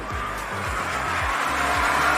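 A Tata Punch three-cylinder car engine revs repeatedly in rising sweeps above 4000 RPM, with a steady high whine from the engine bay layered over the droning exhaust; loud and close, no talking.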